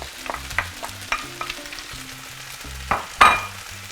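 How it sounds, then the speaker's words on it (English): Chicken fried rice with peas being stir-fried in a pan, with a soft sizzle under scattered clinks and scrapes of a utensil and a sharper clatter near the end. "I'm going to go ahead and toss in the peas."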